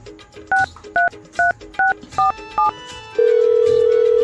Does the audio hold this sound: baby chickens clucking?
no